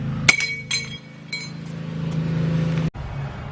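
Metal strikes ring out against a rusted-together rear leaf spring being beaten loose, a few sharp clanking hits spaced apart, loud and close, over a steady low hum.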